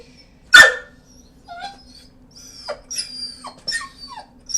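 A dog gives one sharp, loud bark, followed by a few softer yips and whines spread over the next few seconds in a quiet room.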